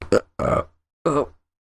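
Three short burps in a row, close and fairly loud, the first two quick and the third after a brief pause, each a guttural voiced belch with nothing else around.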